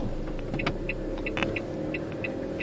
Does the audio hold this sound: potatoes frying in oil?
no